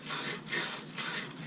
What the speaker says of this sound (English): I just have a little piece of emery paper here. So I'm going to go inside and clean up this area here